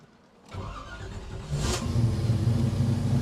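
A 1969 Chevrolet COPO Camaro clone's 427 V8 cranks and catches, then settles into a deep, throaty rumble that swells as it revs, loud and close.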